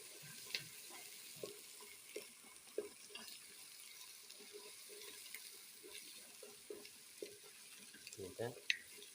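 Onions fry with mutton, garlic and ginger in a pan for lauki mutton curry, a soft low sizzle broken by intermittent stirring scrapes and light clinks, all fairly faint.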